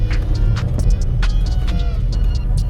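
A Renault Triber car rolls in and settles into a parking spot, its engine a steady low throb close by, overlaid with occasional sharp clicks and rustles, with no one speaking.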